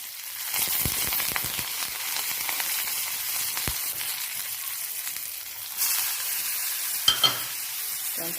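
Curry leaves and a pinch of asafoetida crackle in hot oil in a pan, a loud, steady sizzle with a sudden louder burst and a couple of light clinks near the end.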